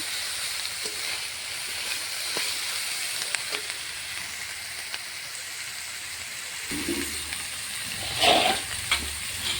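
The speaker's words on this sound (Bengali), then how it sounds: "পেঁয়াজ কলিটা মাছটা ভালো করে ভেজে নিয়ে রসুনটা দিয়ে দেবো।" Taki fish and onion stalks fry in a pan with a steady, close sizzle, and a few louder bursts and stirring scrapes come near the end.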